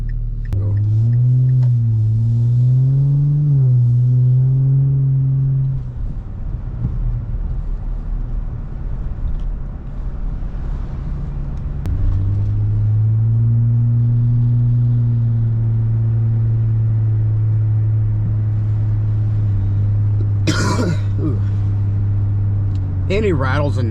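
A 3rd-generation Nissan Frontier's exhaust drones steadily while driving around town at low speed, about 25 mph, with a deep rumble that rises and dips slightly under light throttle, heard from inside the cab, plus a brief rattle near the end.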